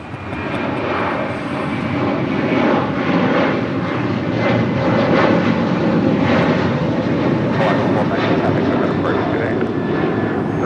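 A JetBlue airliner taking off from runway 25 right at Los Angeles International Airport roars loud and steady, its engine rumble swelling and holding, while people talk over it.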